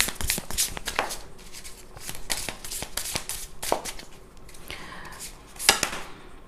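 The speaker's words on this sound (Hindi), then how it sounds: "2 कार्ड्स निकालेंगे।" Tarot cards being shuffled and drawn, quick papery riffles and flicks in short bursts with sharp snaps, close and clear.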